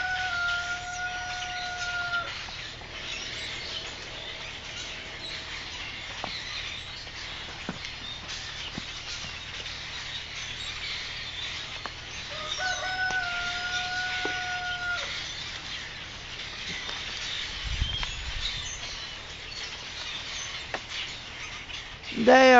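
A flock of grackles gathers in oak trees on a farm, giving scattered, fairly distant calls in brief bursts over a steady outdoor background.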